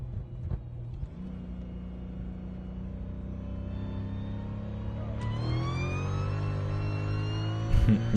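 A supercharged Mercedes-Benz E55 AMG engine heard from inside the car, a steady loud drone that rises smoothly in pitch as it revs up, with a faint supercharger whine over the rumble.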